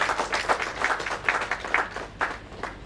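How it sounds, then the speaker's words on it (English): Seminar audience applauding a guest speaker at a real estate event on GST and RERA: a light, scattered round of clapping from a modest crowd, steady for a few seconds at moderate distance. "A big round of applause to Natarajan sir."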